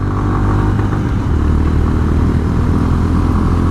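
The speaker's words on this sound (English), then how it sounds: "When you want to ride this bike fast," A Honda CB350RS motorcycle engine pulls hard under fast acceleration, a loud, close, throbbing mid-pitched drone with mechanical clatter that holds steady throughout.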